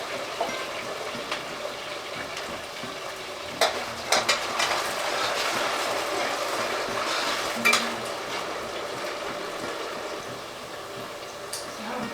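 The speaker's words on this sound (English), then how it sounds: "while my potatoes are frying up" Potatoes deep frying in a fryer: a continuous crackling sizzle with occasional sharper pops and faint clinks, steady and close.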